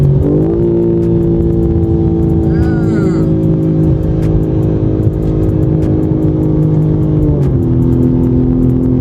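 A BMW M3 Competition G80, tuned to about 700 horsepower, revs hard while driving, its engine note climbing and holding loud and close, then dropping near the end, with brief voices in the cabin.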